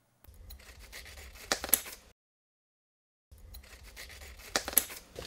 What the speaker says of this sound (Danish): Ud fra T-stykket laves klip i rørskålen.